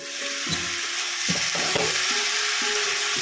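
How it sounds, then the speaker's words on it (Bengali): Kohlrabi dalna being stirred in a pan, close spatula scrapes and knocks recurring every half second or so over a continuous gentle sizzle, with no one speaking. "আরেকবার নেড়ে চেড়ে মিশিয়ে দিচ্ছি"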